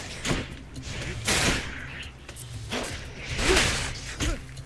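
Bow shots fire in the action video game Hades, a run of sharp, punchy whooshing releases and impacts recurring every second or so, moderately loud amid continuous game noise.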